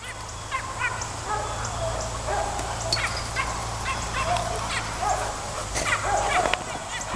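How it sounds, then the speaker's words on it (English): Puppies barking and yipping together in a play yard, scattered sharp high yaps and squeals repeating throughout, with people talking nearby. "They're nice puppies."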